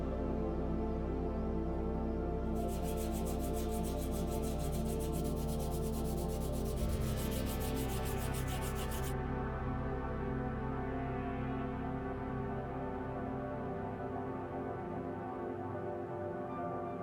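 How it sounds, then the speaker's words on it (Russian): Sandpaper rubbing a puttied wooden blade smooth, a steady rasping scrub at a constant level that runs the whole length over a persistent low background hum. "Шпаклюем и шкурим все, чтобы было гладенько."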